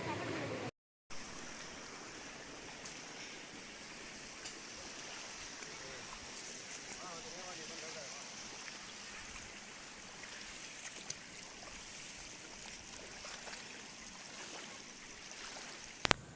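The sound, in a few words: Mottampatti waterfall flowing water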